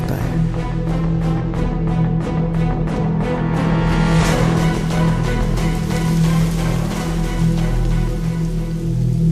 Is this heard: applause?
no